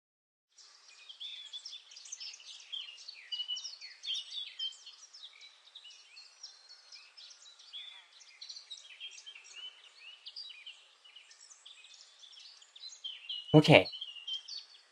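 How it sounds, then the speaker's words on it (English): A video game lakeside scene carries peaceful ambient birdsong, faint chirps and trills running steadily in the background, with a brief loud knock near the end and a quiet spoken word. "Cue the peaceful bird sounds."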